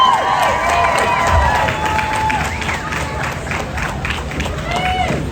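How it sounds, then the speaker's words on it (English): An audience at a large event applauds and cheers to welcome a speaker to the stage, a loud sustained roar of clapping with scattered whoops and shouts. "So can we give a big applause and welcome to the stage, Lisa Bevere"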